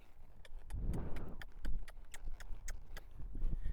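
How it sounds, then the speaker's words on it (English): Horse hooves at a lope strike the ground in a steady, quick rhythm of distinct clip-clop beats over low rumbling movement noise, close and fairly loud throughout, with no talking. "So we'll do it at a lope."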